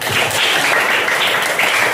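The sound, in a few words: applause for a student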